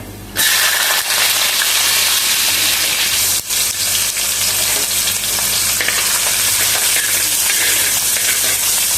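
Chopped ginger and garlic for beef peralan hit hot oil in a pan and sizzle loudly and continuously, a dense close-up frying hiss with faint stirring, with no talk.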